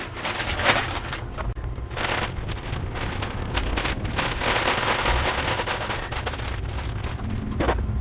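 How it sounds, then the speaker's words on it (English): A newly mounted blower on a blacksmith's forge is started up, a continuous rushing roar of air with sharp crackling pops scattered throughout, close and fairly loud. "Seems to have pretty good air output, so we're going to fire this thing up."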